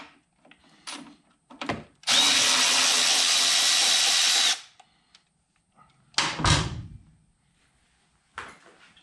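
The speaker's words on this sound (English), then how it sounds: "You have to take out these two support screws." A power drill backs out support screws from the chain case of a 2011 Yamaha Apex snowmobile, one sustained whirring run of about two seconds, then a shorter burst, with clicks and handling noises between.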